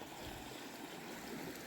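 Water flowing in the Manning River at Barrington Tops, a faint, steady rushing hiss of a stream with no clear breaks, heard alone at low volume.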